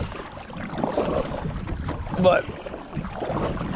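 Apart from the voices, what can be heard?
wind picking up while fishing outdoors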